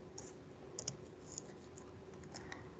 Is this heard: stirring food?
no